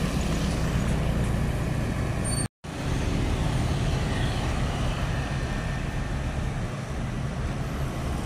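Putra Pelangi bus passing on a road from the Rembah Harau direction, a steady broadband engine and roadway roar that stays loud for the whole stretch, with one brief dropout partway through.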